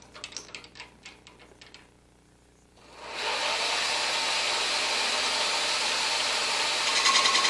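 A power tool rattles in short clicking bursts, falls quiet, then spins up into a loud, steady whirring hiss of sanding that holds close and constant to the end, with no voices.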